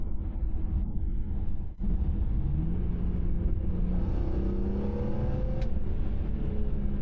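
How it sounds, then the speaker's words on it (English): An E46 M3 or B7 RS4 engine pulls hard out of a corner, a loud in-cabin roar whose pitch climbs steadily as the revs rise, with a brief dip early on before the sustained acceleration. "coming out of a corner, putting my foot down, and pulling through the revs in either of the cars"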